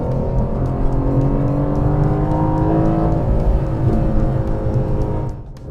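An Aston Martin DB11 V8 with its ZF eight-speed automatic accelerates hard in a test, its engine roaring loudly from inside the cabin as the pitch climbs steadily and then eases.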